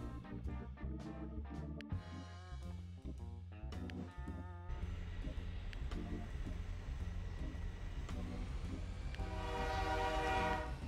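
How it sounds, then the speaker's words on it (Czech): A modern train in the video game Mashinky rolls along with a steady mechanical rumble, sounding a series of horn blasts that hold and repeat, then fades into a continuous running drone. "to už zní jak moderní vlak tohle"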